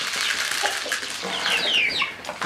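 A small flock of homestead chickens clucks and chatters at a feeder in a dense, continuous racket of close, overlapping calls with no talking.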